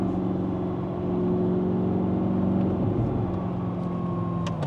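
An Audi R8 supercar with a gated manual gearbox hums steadily from inside the cabin, engine tone holding then dropping as it downshifts, with faint clicks near the end.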